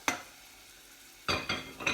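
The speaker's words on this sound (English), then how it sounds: "Get those onions cooked off" Onions cooking in butter in a pan: a soft background sizzle broken by several sharp bursts of stirring and scraping, one early and a quick cluster near the end.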